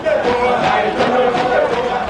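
A large crowd gathered for military exercises around the presidential palace: a dense, steady roar of many voices shouting and cheering together, loud and continuous throughout.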